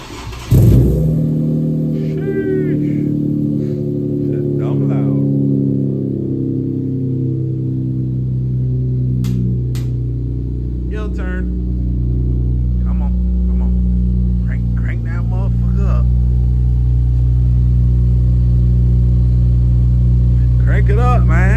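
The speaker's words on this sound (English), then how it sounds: "Gonna go ahead and cool start these cars." A bagged Infiniti Q60S cold-starting at a Miami cars and coffee meet: loud, close engine rumble that settles into a steady idle, with a few rises in revs and voices talking nearby.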